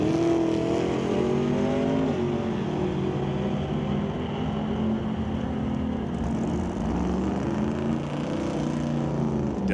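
Drag race cars with a 414 cubic inch small block Chevy and a 355 inch Pontiac engine roar steadily at a racetrack, a loud continuous engine drone with rising pitch sweeps, no talk over it.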